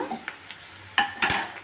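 A tempering for mango dal curry of mustard seeds, curry leaves, onions and a pinch of asafoetida in hot oil, sizzling softly at close range and then flaring into two louder crackling bursts near the end.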